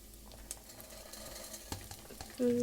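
Tomato and field beans fry quietly in a pan, a faint low sizzle with a few light stirring clicks scattered through, swelling slightly louder at the very end.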